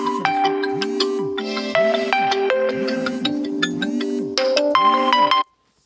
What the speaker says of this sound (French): mon téléphone qui a sonné